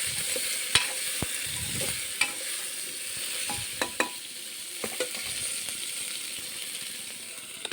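Mixed vegetables with a pinch of sugar fry together in a pan, giving a steady close sizzle broken by sharp clicks and scrapes of a spoon stirring against the metal. No talking.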